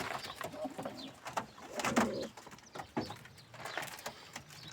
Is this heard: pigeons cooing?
yes